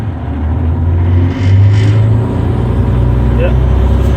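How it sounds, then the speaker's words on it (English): A Terex articulated dump truck pulls away in first gear, its diesel engine rumbling low and steady with a brief swell in revs as it starts moving, close and loud. "Let's go down to first. The brake is off and we're good. We're moving."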